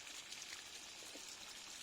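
Water trickles and splashes steadily onto mint plants in a home garden plot, a soft, continuous hiss and patter heard faintly and alone throughout.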